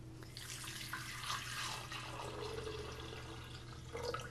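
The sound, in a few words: pouring vegetable broth into pot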